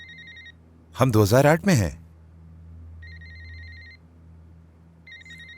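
A telephone rings in a pattern of repeated electronic trills, with one ring, a pause, another ring, then a third ring starting. Someone speaks loudly over the line between the first and second rings.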